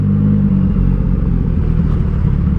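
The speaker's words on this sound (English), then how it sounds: "that exhaust doth make one hell of a retarded racket" A racing car's loud exhaust, a dense continuous low rumbling roar with a slight rough pulsing, close and steady throughout, with no talk.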